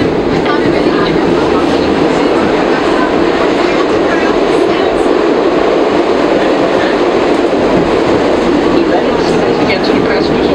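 A SEPTA train in Philadelphia rumbles and clatters steadily on the rails, loud and continuous throughout, with a voice making passenger announcements over the noise.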